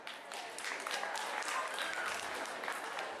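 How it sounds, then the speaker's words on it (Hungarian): An audience at an anime music video contest results ceremony claps steadily, a fairly thin but continuous patter of applause heard from within the hall. "Amúgy az a taps elég vékony volt"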